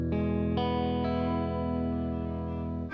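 Treble strings on a Teisco Spectrum 5 stereo guitar are strummed, with a few chord attacks that ring into a bright, harmonically dense sustain. The playing is close and steady, and no one speaks.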